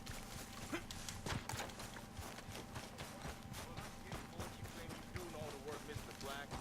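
Rhythmic hoof clip-clops of a horse trotting steadily in Red Dead Redemption 2 on PS4, over a dense, noisy background of game sound, with no one speaking.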